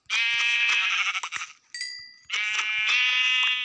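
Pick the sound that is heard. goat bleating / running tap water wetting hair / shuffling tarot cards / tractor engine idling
goat bleating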